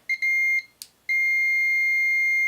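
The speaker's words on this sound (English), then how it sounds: "Nice loud beeper, that's pretty cool." A multimeter's continuity tester gives loud, close electronic beeps: two short bleeps, then a longer sustained tone after a brief click and pause.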